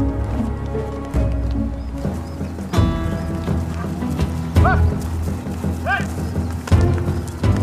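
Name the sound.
horses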